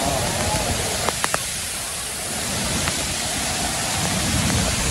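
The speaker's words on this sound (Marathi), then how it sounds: "रौद्र रूप आहे हे धबधब्याचं आणि भरपूर पाणी येत आहे" Heavy monsoon flow pours over a waterfall in Virar, a loud, steady broadband roar of falling water that fills the whole stretch, with a few brief clicks near the start.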